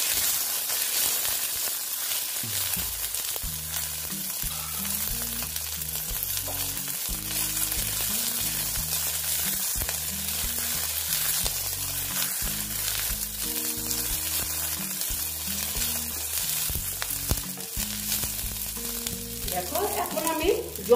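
Food fries in a pan with a steady, close sizzle that holds throughout, broken by soft, irregular stirring and scraping sounds.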